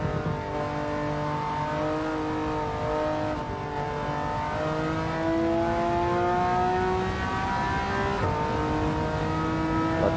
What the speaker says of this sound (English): Got that little turbo singing there in the background.